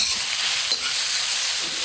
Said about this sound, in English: you want to crumble it up as you're browning it